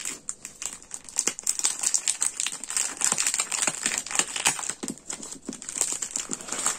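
Packages of cutting dies are opened up close, giving a steady run of crinkling, crackling plastic wrap with sharp tearing and rustling ticks throughout.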